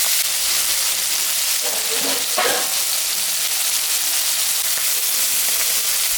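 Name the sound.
fish frying in hot oil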